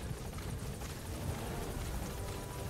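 A helicopter arrives in Metal Gear Solid V: The Phantom Pain, its rotor making a steady, dense whirring drone that holds at an even, moderate loudness throughout, with no speech.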